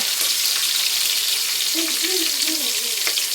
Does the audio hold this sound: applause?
no